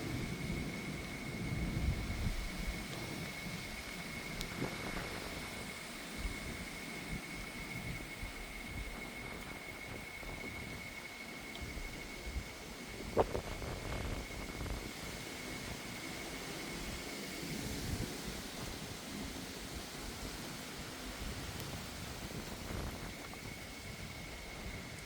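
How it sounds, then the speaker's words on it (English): Gusting wind sweeps through an open area in a thunderstorm, a constant broad roar with surges and rumbling low buffeting that carries on without a break. "Here comes the wind."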